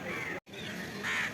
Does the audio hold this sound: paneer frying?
no